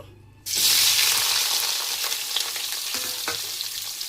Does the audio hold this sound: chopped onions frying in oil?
yes